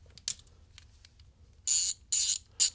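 A Pittsburgh 1/4-inch drive ratchet clicks in three quick bursts of rapid pawl ratcheting, close and crisp, after a few faint isolated ticks, with no talking.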